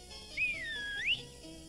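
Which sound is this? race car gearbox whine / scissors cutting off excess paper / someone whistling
someone whistling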